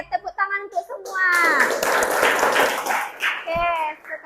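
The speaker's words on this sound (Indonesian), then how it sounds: "tepuk tangan untuk semua" A classroom of middle-school students claps hands together in a brief burst of mixed applause. Children's voices and sung phrases are heard before and after it.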